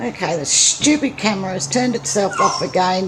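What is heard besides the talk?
dog whimpering for a cookie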